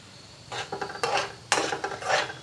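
A spoon scrapes and stirs semolina roasting in ghee in a pan, soft gritty scraping strokes in irregular bursts, close and fairly clear with no talking.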